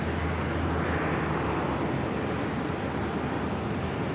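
A Delta Air Lines Airbus A330-300 arriving from Nice at JFK gives a steady, moderately loud jet rumble with a low droning hum, holding evenly throughout.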